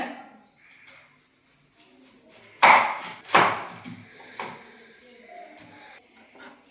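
Cabbage rasped against a metal vegetable grater in a kitchen, a few scattered scraping strokes with two loud sharp scrapes in the middle, close by and quiet between strokes.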